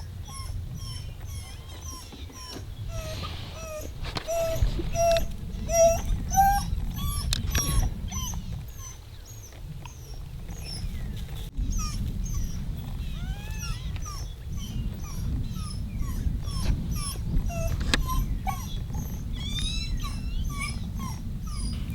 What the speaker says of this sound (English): there are pups in this termite mound